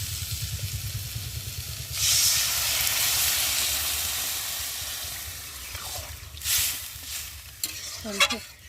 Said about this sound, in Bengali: আর এখন আমি জল দিয়ে ভালো করে ফুটিয়ে নেব